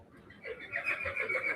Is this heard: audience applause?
no